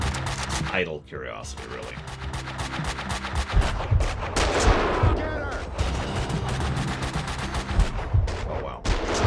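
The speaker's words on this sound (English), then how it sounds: "I'm just curious how large the bullets I'm shooting into people's nuts are." Gunshots in the video game Max Payne 2, repeated sharp reports and bursts of fire mixed with in-game clatter, loud and close, with someone speaking briefly over the action.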